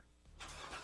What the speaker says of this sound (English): That's the sound of America's only sports car.